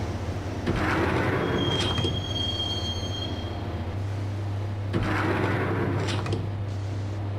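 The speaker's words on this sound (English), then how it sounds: "the train doors had already shut behind me, and I was in for the ride" A subway train ride in the video game Max Payne, with a steady low rumble of the rail car, sharp wheel squeals rising twice, and a faint sliding-door sound, all without voices.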